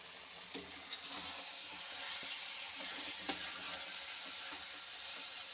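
Steamed mixed vegetables with drumsticks for a Bengali chochhori are stirred in a pan, with a gentle sizzle and a few distinct spatula knocks against the metal, one sharper clack standing out midway.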